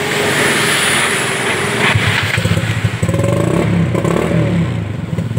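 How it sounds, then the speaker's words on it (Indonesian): A Yamaha Mio Soul scooter-style motorcycle, up on its centre stand, cranks on its electric starter. It gives a loud, close mechanical whir and clatter that settles into a rough, pulsing engine sound. "Tapi kalau standar 2, dan ini udah standar 2, coba kita starter"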